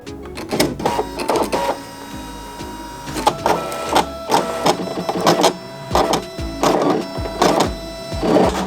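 A vinyl cutting machine slices through vinyl sheet with a printer-like, mechanical whir, running in repeated short bursts of carriage movement with brief pauses between passes, close and fairly loud, with no voices.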